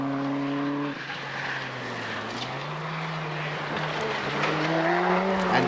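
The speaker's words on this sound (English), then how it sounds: "And in his Sierra Cosworth, John Gray was the top Group N driver." Ford Sierra Cosworth rally car on a Scottish stage in 1989, engine note rising and falling through gear changes as it passes fairly close, loud and alone.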